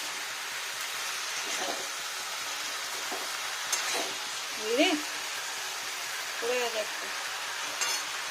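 A vegetarian cauliflower curry with tomatoes cooks in a pan, giving a constant soft sizzle and bubbling with faint scraping of a utensil throughout, while a voice is briefly heard in the background.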